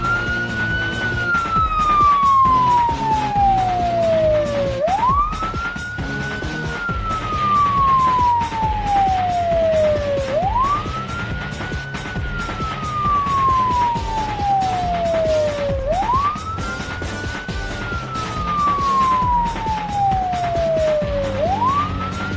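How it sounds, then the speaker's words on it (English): A vehicle siren in the Project Zomboid video game wails steadily and loudly, its rising-then-slowly-falling sweep repeating about every five seconds over a low engine rumble, with no talking. "Got that siren going, nice and steady."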